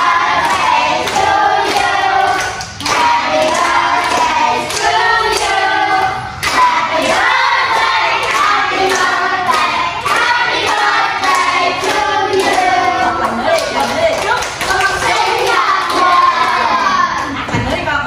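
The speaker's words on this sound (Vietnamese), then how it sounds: "Rồi vỗ tay mấy bạn ơi." Schoolchildren at a simple home birthday party clap and shout together, loud and close, with excited high voices, cheering and scattered hand claps running continuously throughout.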